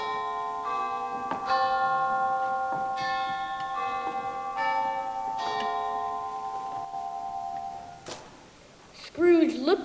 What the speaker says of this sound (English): The chimes were ringing